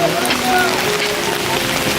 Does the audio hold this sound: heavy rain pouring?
yes